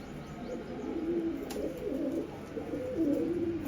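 Pigeons in a domestic loft give soft, low, throaty coos that repeat in rolling phrases, with faint background noise.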